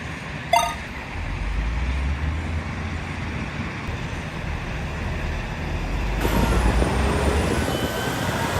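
A Caterpillar 988F wheel loader, a 110,000-pound machine, works with a steady, heavy diesel rumble. A sharp hiss like an air brake comes early, and the engine swells louder in the final seconds.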